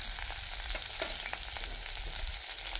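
Green chilli and a single onion sizzle steadily in a pan, a continuous close frying hiss with occasional stirring scrapes and no voices.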